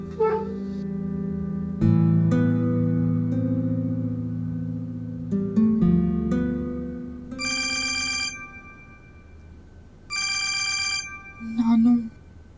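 A telephone rings in a domestic drama scene, repeated electronic ringtone bursts sounding over and between people talking.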